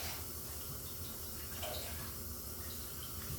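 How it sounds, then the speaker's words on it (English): Cold water runs from a tap into a small bowl, a steady, fairly loud splashing stream that continues without a break. "we're gonna add a little water at a time"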